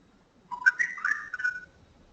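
A phone notification chime plays alone in a quiet room, a short, clear run of rising and falling whistle-like tones lasting about a second.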